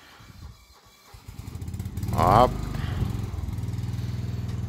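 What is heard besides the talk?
tractor engine driving in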